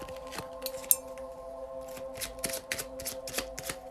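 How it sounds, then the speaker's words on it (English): Tarot cards riffled and shuffled in several quick bursts, crisp papery flutters close by over a faint steady background hum. "Let's give it a shuffle"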